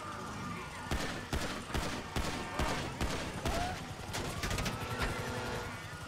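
Gunfire in a GTA V jewel heist shootout during a police chase: a run of sharp, loud shots in irregular bursts over steady game noise and vehicle engine sound, with talking heard across it.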